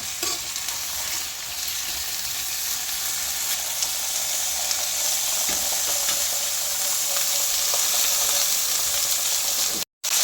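Ivy gourd (kovakka) frying in a hot pan, giving a steady, close sizzle with a faint scrape of stirring running evenly throughout.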